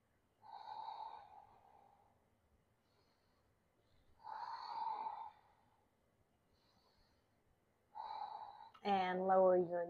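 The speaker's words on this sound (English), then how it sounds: "On your inhale, press up, close your lips. Find your Ujjayi breath." Slow, deep yogic Ujjayi breaths come in audible waves through a constricted throat, each lasting over a second and separated by quiet gaps, close and alone, with a short voiced sound at the end.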